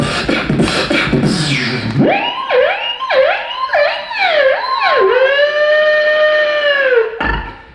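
A human voice imitates a police siren aboard the cruise ship Harmony of the Seas, first with rising whoops, then a series of quick wails, ending in a long sustained tone.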